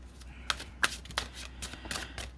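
A tarot card deck is shuffled by hand in a few quiet, crisp riffles and flicks, soft and close with short gaps between each pass.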